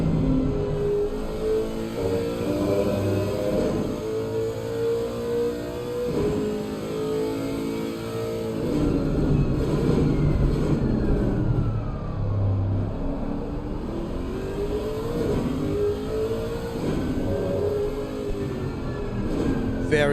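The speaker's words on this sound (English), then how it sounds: "And the engine noise too. Listen to this engine." A GT3 race car engine in Assetto Corsa Competizione revs loud and throaty, its pitch climbing and dropping through repeated gear changes, sustained and close with no break.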